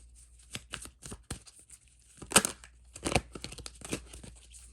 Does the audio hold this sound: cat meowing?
no